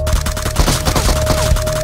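Rapid gunfire from an M4 rifle in the mobile shooter Peacekeeper Elite, a loud close burst of repeated shots with a steady tone running underneath and no talk.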